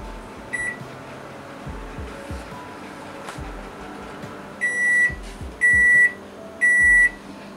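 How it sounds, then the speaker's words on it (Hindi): A microwave oven hums steadily with faint clicks while heating a container of water for two minutes, then three loud electronic beeps sound in a row as it finishes. "अब हम कंटेनर को माइक्रोवेव में रखेंगे और 2 मिनट के लिए माइक्रोवेव करेंगे।"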